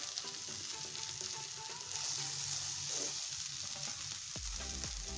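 Pav bread toasting with masala on a hot pan gives a faint, continuous sizzle, with a couple of soft low knocks near the end and no talking.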